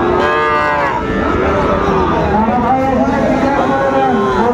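Cattle low repeatedly at a busy weekly livestock market in Dinajpur trading Sahiwal bulls and calves, several overlapping moos rising over a dense, loud crowd murmur and constant background chatter.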